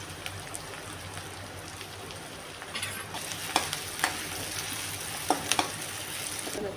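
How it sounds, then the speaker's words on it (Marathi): Onion with cumin and cinnamon pieces frying in a pan, a steady soft sizzle broken by several sharp spoon clinks and stirring scrapes, close and moderately loud, with no talking. "कांदा लाल होईपर्यंत परतून घेऊ"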